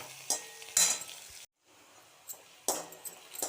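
Onion and green chilli sauté in a pan with a soft sizzle, broken by a brief silence and several bright scrapes and clinks of a spatula against the metal.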